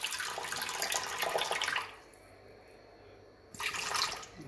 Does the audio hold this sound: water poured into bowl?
yes